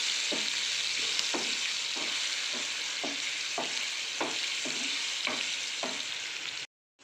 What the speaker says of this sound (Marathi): बटाटे ॲड करून घेऊ छान परतून घेऊ